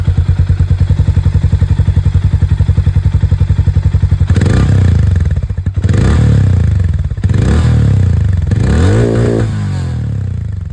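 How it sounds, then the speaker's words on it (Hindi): A Hero Mavrick 440 motorcycle idles with a deep, steady single-cylinder thump, then is revved hard several times, each sharp rise falling back, loud and close with no talking. "दोनों ही बाइक में जो एग्जॉस्ट साउंड है वो भी मैं आप लोगों को सुना दूं"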